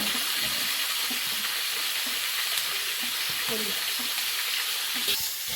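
Potato and aubergine pieces fry in oil in a pan, giving a dense, continuous close sizzle with occasional scraping of stirring underneath.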